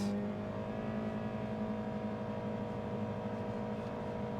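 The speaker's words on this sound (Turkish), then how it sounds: "Ya bu dip gaz sesi" A steady, droning engine roar from a Toyota Corolla at full throttle in sport mode, holding at high revs, heard from inside the car, continuous and fairly loud throughout.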